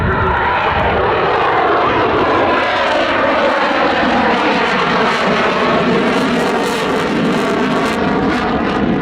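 A fighter jet flying slowly past at the Duxford summer airshow, a loud continuous engine roar that holds steady and shifts slightly in pitch as it passes, with no voices.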